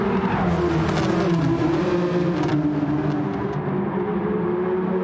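Mini VGT race cars roar around the Nürburgring Nordschleife in a racing video game, several engines droning and shifting pitch together as they pass close by.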